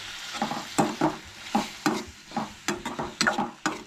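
Garlic sautés in a hot pan during cooking for a Gudi Padwa lunch, with a soft steady sizzle broken by repeated scraping and stirring strokes in an irregular rhythm, close and clear.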